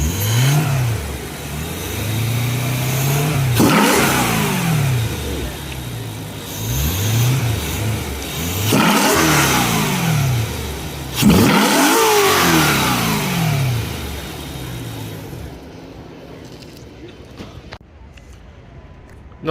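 BMW M3 with velocity stack intakes revving repeatedly, each loud rising-and-falling engine sweep close by, with a sharp intake snap between pulls before the sound cuts off near the end.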